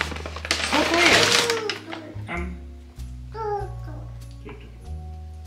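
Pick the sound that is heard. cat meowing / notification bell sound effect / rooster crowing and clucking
cat meowing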